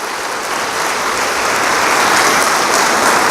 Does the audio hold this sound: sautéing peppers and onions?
no